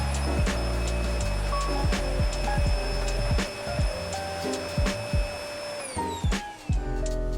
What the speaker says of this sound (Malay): Yang pertama, saya akan vacuum menggunakan corded vacuum.